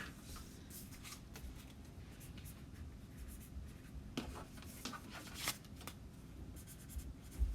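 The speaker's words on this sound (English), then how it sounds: "Just writing on the back so I know what's what." Pen or marker scratching across the back of a crafting piece on a wooden surface, a faint, close, continuous scribbling with small taps and rubbing, no talk.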